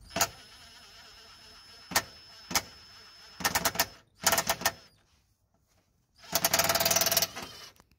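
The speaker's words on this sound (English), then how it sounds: "just gonna drive the bolt in." Bolt driven into the lower suspension control arm of a Nissan Note: short sharp impact bursts at irregular intervals, a brief pause, then a longer sustained rattling run, all close and loud against a quiet background.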